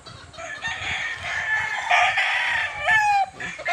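A gamefowl rooster from breeding stock crows loudly and close by, one long strained cock-a-doodle-doo with a few clucks before it and no voices.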